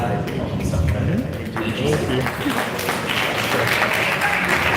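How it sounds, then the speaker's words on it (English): Audience applause at an international conference on atmospheric, earth and space sciences, a broad, steady patter of clapping from a seated crowd that lasts throughout while a voice speaks over it. "Please, another round of applause for the DG and his team."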